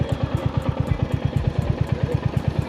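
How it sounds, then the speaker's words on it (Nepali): A 350 cc motorcycle engine thumps at idle with an even, rapid pulsing beat, close and steady throughout with no talk. "यो 360 रे 350 चलाएर हेरौँ कस्तो देख्दो रहेछ।"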